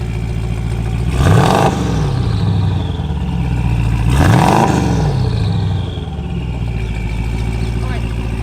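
Aznom Palladium hyper SUV's 5.7-litre biturbo V8 rumbling steadily, with two loud revs swelling and falling back to a deep, truck-like idle close by.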